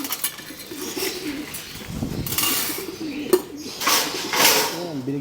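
Breeder pigeons in a colony loft coo in low wavering rolls while being fed a Kalapatids Breeder Mix, with feed rattling and clinking nearby and someone talking over them.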